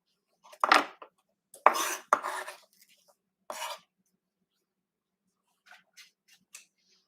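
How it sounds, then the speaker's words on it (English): A knife chops vegetables for a breakfast potato hash with Swiss chard, giving a few sharp close cuts and scraping strokes, then fainter scattered taps with quiet gaps between. "I'm going to finish chopping the rest of the veggies that are going to go inside."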